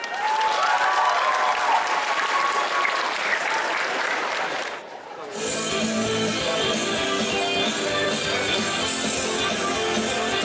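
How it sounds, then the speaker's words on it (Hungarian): Audience applause for a contestant at a cosplay craftsmanship competition at a summer convention. Loud, dense clapping fills the room, breaks off briefly, then resumes with music playing under it. "Tapsot!"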